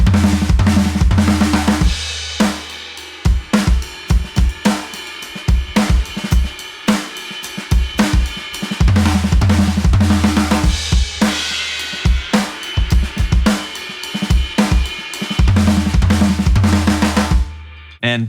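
Drum fill working around combinations of toms, repeated in loud busy bursts with kick and cymbal crashes between them, alone without talk.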